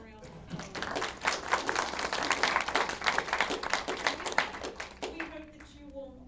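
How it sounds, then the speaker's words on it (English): Conference audience claps for another round after a talk, a lively burst of hand claps lasting several seconds before a voice resumes speaking at the end. "I think it deserves one more round of applause."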